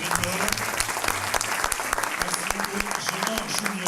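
Enthusiastic applause fills the room as the audience at the MediaPro 2018 awards ceremony in France claps for the winners, dense and continuous with a voice speaking over it.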